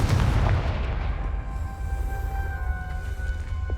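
A Confringo blasting spell explodes in Hogwarts Legacy, a loud low boom at the start that rolls into a fading rumble with a faint ringing tail.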